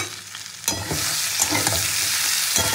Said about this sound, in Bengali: ভাজতে ভাজতে এঁচোড়টা সেদ্ধও হয়ে যাবে।